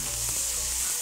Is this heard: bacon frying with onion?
yes